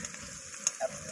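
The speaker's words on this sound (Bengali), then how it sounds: "তেল আমাদের গরম হয়ে গেছে, এবারে বুধ ভাই পেঁয়াজটা দিয়ে দিল" Sliced onions sizzling in hot oil in a pan for a catfish curry, a steady close hiss with a couple of small sharp pops.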